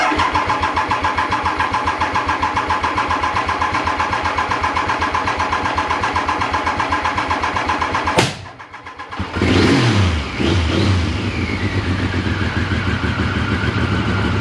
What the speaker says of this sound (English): A little bit of choke and we'll crank her, see how we get on.